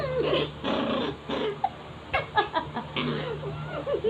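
A dog growls angrily in low, rumbling bursts mixed with short whimpering yips, close to the microphone, while a person talks over part of it.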